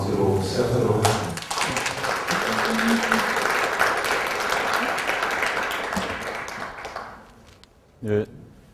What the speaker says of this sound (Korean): 마지막 세 번째 챕터 여러분의 큰 박수로 시작하도록 하겠습니다.